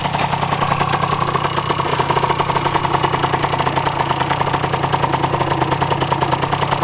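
A Yamaha TZR 80cc motorcycle engine idles close by with a steady, rapid rumbling putter, loud and continuous, with no voices.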